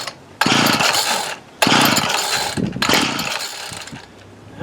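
A 2002 Ryobi 765R two-stroke engine on full choke fires in short loud bursts that rev and die, three surges separated by brief quiet gaps, close by.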